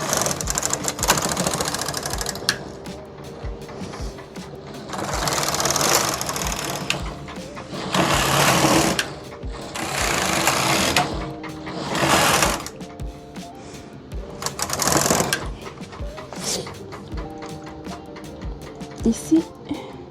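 A Brother KH588 standard-gauge knitting machine carriage runs across the needle bed knitting a row of wool, giving a loud mechanical whirring and clattering in repeated surges over about twenty seconds.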